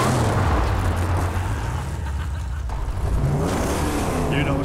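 A car in the Mad Max video game drives and revs hard, a continuous loud engine roar rising and falling in pitch with gravelly road noise underneath.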